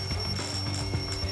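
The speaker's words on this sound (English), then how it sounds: "that was the phone ringing that we heard from Grape House" A phone rings in the video game Danganronpa 2, a short steady electronic bell-like tone with repeating pulses, moderately loud and clear, with no talk.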